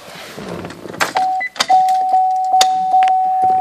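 Power moonroof of a 2008 GMC Envoy SLT opening inside the cabin: a few clicks and a thump, then a steady electric motor whine running alone with faint chimes over it.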